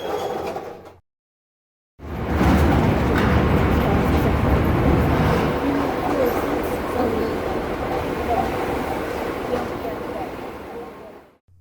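Amtrak Lake Shore Limited passenger train on its Chicago to Boston run in cold, windy November: a short burst of noise, about a second of silence, then a loud, steady broadband rumble that rolls on and slowly eases near the end.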